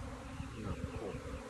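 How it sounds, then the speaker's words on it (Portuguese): Bees buzzing during a capture of a wild colony nesting in a termite mound, a close, steady droning hum with small fluctuations as the insects swarm, no talking. "E pega um bocado de abelha devagarzinho."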